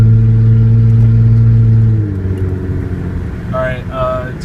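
A Hyundai Sonata with its muffler deleted drones loudly with a strong steady engine note for about two seconds, then drops to a rougher, lower rumble while voices speak briefly near the end.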